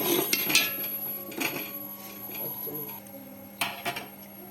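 Spices with turmeric, cashews, slit green chillies and fried dried chillies being stirred in a cooking pot, a few light metallic scrapes and clinks spread through a quiet kitchen, with a steady low hum underneath.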